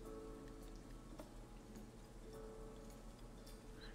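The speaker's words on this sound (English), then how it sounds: "It sounds like it changed to like some kind of like rain music." Rain-themed background music from the game Chao Resort Island plays steadily at low volume, with soft pattering raindrop textures over sustained tones and no talking.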